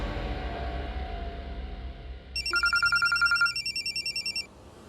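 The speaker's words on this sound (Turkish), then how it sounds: "Telefon karakoldan." A telephone rings in one loud burst of rapid electronic trilling pulses partway through, over a low hum of background sound, then stops.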